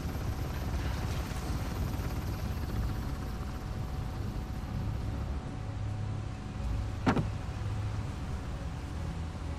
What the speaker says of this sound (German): Oh, der Heli.